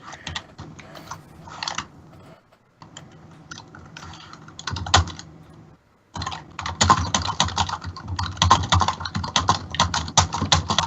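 Fast, heavy typing on a computer keyboard close to a tabletop microphone during an online tabletop game session, bursts of clattering keystrokes with short pauses, growing louder and more frantic toward the end.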